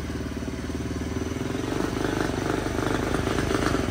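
A Polaris RZR 170 engine idles steadily just after its first start, a continuous close mechanical putter that swells slightly louder partway through, with no talk over it.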